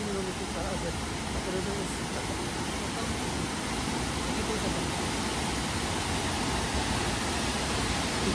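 Cuetzalan's Las Brisas waterfall pours in a steady, loud broadband roar, a constant dense wash of falling water that stays close and unbroken for the whole stretch with no talk over it.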